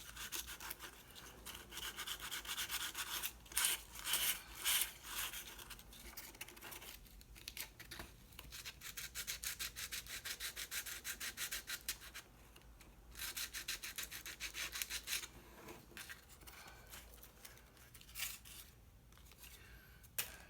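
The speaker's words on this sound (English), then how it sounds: "I'm just sanding that part that I filled with the wood filler." Hand sanding over wood filler patched into painted wood, a soft, faint scratchy rubbing in uneven bursts with short pauses between strokes.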